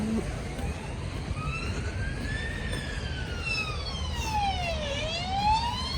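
A wailing ambulance siren sweeps up and down repeatedly, passing nearby over steady traffic noise on a rain-wet village road in the morning, loud and continuous.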